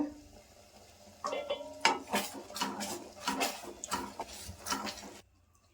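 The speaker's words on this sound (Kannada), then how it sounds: "ಇದನ್ನು ಒಂಚೂರು ಚೆನ್ನಾಗಿ ಮಿಕ್ಸ್ ಮಾಡಬೇಕು" A spoon scrapes and clinks around a pan while white sauce pasta with cream, oregano and chili flakes is stirred, giving a run of close, irregular metallic knocks and wet swishes that stops abruptly near the end.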